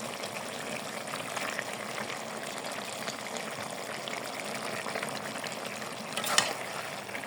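Pabda fish and vegetables frying in a pan give a steady, soft sizzle that runs throughout, with a brief louder splash or stir near the end.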